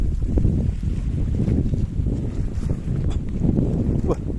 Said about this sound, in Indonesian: Wah, ombaknya gede juga ya,